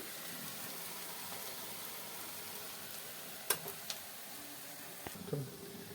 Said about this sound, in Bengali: সুন্দর বড়াগুলো ভাজা হয়েছে